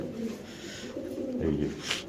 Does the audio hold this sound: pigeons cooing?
yes